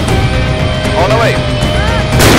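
A tank cannon fires in the ArmA 2 tank battle, a single sharp loud blast near the end after a stretch of engine rumble and brief voice-like chatter over the radio.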